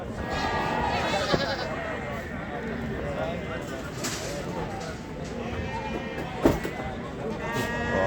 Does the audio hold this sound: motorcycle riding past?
no